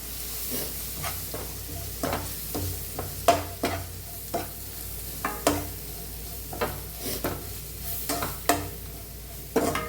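Chickpea curry with chicken masala and ground black pepper is stirred in a pot. A spoon scrapes in repeated, roughly regular strokes over a low sizzle, close and clear, with no talking.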